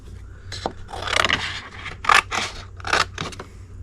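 Close scissors snip and scrape through paper while a paper pumpkin stem is trimmed for a Halloween craft, giving several short cuts in an uneven rhythm.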